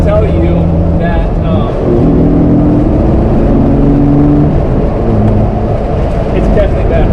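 A Jeep 4.0 engine fitted with a BBK 62mm performance throttle body runs loud and close, a steady, dense mechanical drone with slight swells in pitch throughout.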